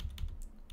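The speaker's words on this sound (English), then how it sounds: "the quick shortcut for that is we just need to type it in" Quick keystrokes on a computer keyboard while typing a command during a Linux Mint software install, several soft, close clicks in an uneven rhythm, alone without talk.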